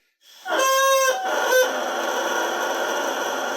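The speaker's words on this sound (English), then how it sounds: "Sometimes when you take your reed out, you can test it by what's called crowing." A bassoon reed, freshly soaked, is crowed on its own, giving a loud buzzy, honking squawk with a bright harmonic stack, a second short blast, then a sustained raspy buzzing that carries on without any talk.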